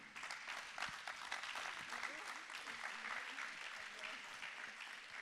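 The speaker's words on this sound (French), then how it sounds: "On peut l'applaudir, Jérôme." Audience at the Innov'Space 2020 trophy award ceremony breaks into sustained applause lasting several seconds, steady dense clapping from a sizeable crowd, with a voice speaking faintly underneath.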